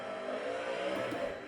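A GT3 car engine in a sim racing game at the Catalunya circuit hums steadily at moderate revs, a smooth continuous drone heard alone.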